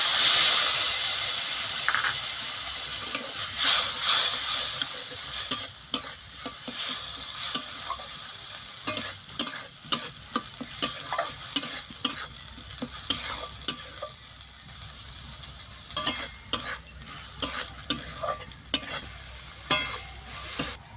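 Coconut-based spice paste frying in oil in a pan, stirred with a spatula: a steady close sizzle with repeated sharp scraping strokes against the pan, no talking.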